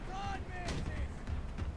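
Ship cannons fire in the naval video game Blackwake, a few deep booming shots in quick succession amid low game ambience, with someone speaking over the opening moments.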